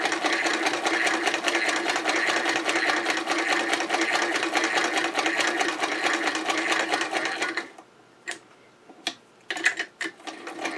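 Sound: hand-cranked Singer Model 66 sewing machine stitching

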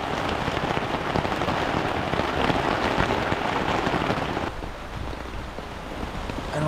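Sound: rain by the sea while camping

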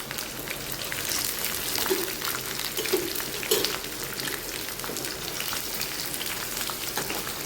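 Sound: ivy gourd pieces frying in oil

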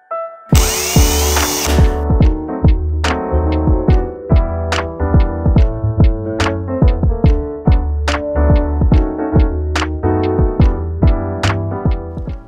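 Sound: power drill drilling a hole in an ornament

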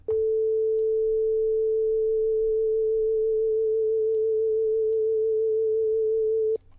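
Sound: synthesized sine keys without vibrato

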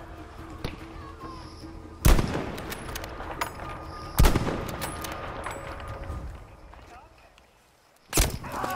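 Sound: gunfire shooting an enemy in a video game

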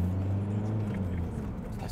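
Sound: Volkswagen Passat B5.5 1.9 TDI diesel car driving

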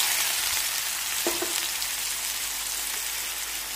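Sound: chopped onion frying in oil with cumin

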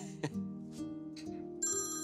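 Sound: phone ringtone ringing

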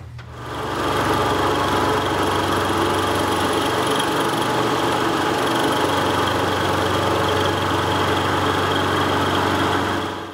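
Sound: 1985 Ford Bronco engine running after rocker arm repair

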